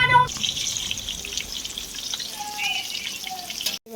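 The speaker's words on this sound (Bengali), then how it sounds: "মাছ ভাজা হবে।" Fish fries in hot oil in a home kitchen, giving a steady, close hissing sizzle throughout with occasional faint clinks and bubbling.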